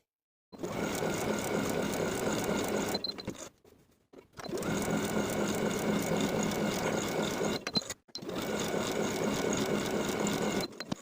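A sewing machine stitches a gathering line along a dress front panel, running in three steady continuous bursts of fast mechanical whirring, close and loud, separated by short pauses, with no voices.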